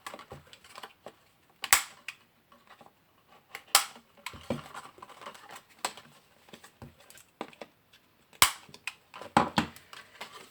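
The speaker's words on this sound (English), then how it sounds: "take a corner rounder and I just round off them corners" A stiff corner rounder punch cutting the corners of a stamped paper gift box, sharp isolated clacks and snaps scattered irregularly among quieter handling rustles, close and fairly loud against near silence.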